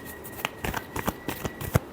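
Tarot cards being shuffled by hand, a quick series of soft riffling flicks and taps, close and quiet, heard on their own.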